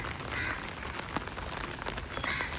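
Dense, steady heavy monsoon rainfall patters on surfaces during the Mumbai floods, a continuous wash of noise with no talking.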